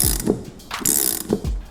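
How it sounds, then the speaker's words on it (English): A crescent wrench and Allen key working a locking nut loose on an Air Lift Performance Series air suspension bag, giving a few short metallic clicks and ratcheting scrapes in two bursts, close by and without voices. "we're going to remove the locking nut. To do so, we're going to use the crescent wrench along with an Allen."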